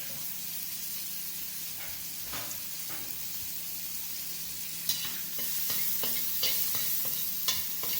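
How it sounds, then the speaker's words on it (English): Curry powder, turmeric, chopped scotch bonnet pepper, onion, scallion and garlic sizzle in a pot for Jamaican curry goat, a steady close hiss with occasional sharp stirring scrapes and louder spatters in the second half. "let it burn a little, let the curry burn a little"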